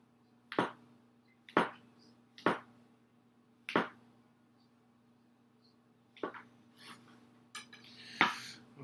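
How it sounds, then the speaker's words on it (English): A knife cuts mushrooms on a board for an omelette with four evenly spaced, crisp chops, a pause, then several quicker, clattering cuts, close and clear against a quiet kitchen. "So I'll cut them like this, and they'll cook down to probably half this size."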